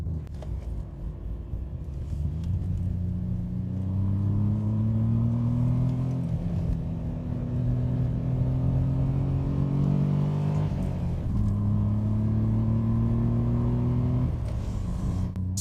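A 1990 Ford Sierra 4x4 engine drones and revs steadily under load while being driven, its pitch climbing through gears in long sweeps, close and loud throughout with no talk.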